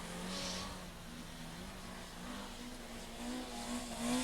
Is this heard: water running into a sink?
no